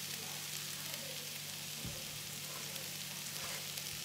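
Coriander dropped into a Spanish omelette frying in a pan gives a soft, steady sizzle that holds evenly throughout, with no talking.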